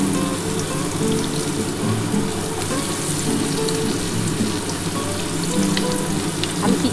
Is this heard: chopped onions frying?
yes